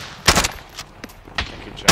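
Gunfire in the Warzone video game: several short, loud bursts of shots spaced across two seconds, with quieter gaps between volleys and no talking over them.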